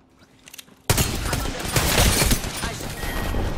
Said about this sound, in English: he shot me around the corner!